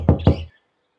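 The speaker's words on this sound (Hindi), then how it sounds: "बाहर से दरवाजा खटखटाने की आवाज आती है" Two quick, solid knocks strike a house door from outside in a cartoon Christmas scene, sharp and close, followed by silence.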